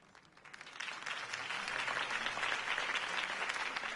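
In the Batman Telltale game, a crowd breaks into applause after Harvey Dent's campaign speech, swelling from quiet into a dense, sustained roar of clapping that holds steady throughout.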